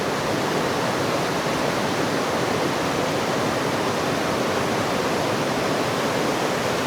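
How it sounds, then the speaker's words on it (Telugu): Water rushes in a steady, unbroken roar, like a waterfall near Melbourne pouring close by, with no voices. "సైలెంట్గా ఉంటే ఆ ఫ్లో సౌండ్ వినండి ఎంత"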